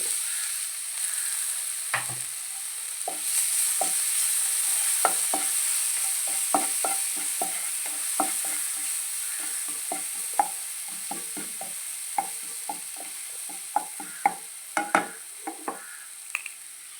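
Crushed curry leaves, garlic and ginger fry in oil for a sardine fry, making a steady soft sizzle close by. A spoon scrapes and stirs the pan over it in frequent irregular clicks.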